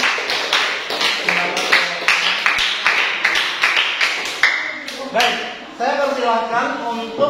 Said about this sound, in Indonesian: Tepuk tangan dulu untuk kelompok B yang sudah menyampaikan